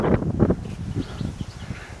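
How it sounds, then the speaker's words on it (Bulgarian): Strong wind buffets the microphone outdoors, making loud, low rumbling gusts that rise and fall unevenly over a couple of seconds. "Вятъра е много зверски"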